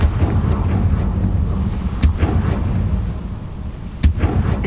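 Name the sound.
Confringo fire-blast spell cast in the video game Hogwarts Legacy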